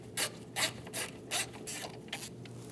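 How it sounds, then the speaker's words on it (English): A 10mm socket ratchet working a bolt loose from the coolant reservoir of a 2016-2025 Chevrolet Malibu 1.5L, a series of short rhythmic clicking pulls, close but quiet, with no talk. "Using a 10mm socket, we're going to remove the bolt off the back of the reservoir."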